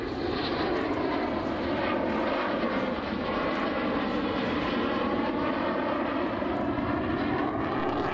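A Saab AJS-37 Viggen jet makes a slow pass with a steady, loud engine roar and a rich rumbling drone that holds without a break throughout.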